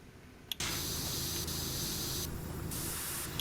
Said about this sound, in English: I did spray this thing up.